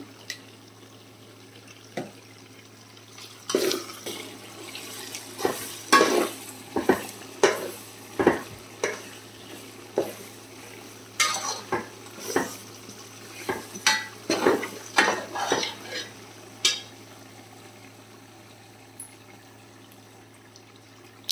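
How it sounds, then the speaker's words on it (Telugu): Ginger garlic paste is stirred as it fries in oil for a chicken pickle. A quiet background sizzle runs beneath a long series of irregular spoon scrapes and knocks against the pan, with no voices. "అల్లం వెల్లుల్లి పేస్ట్ గోల్డ్ కలర్లో ఫ్రై అవ్వాలండి."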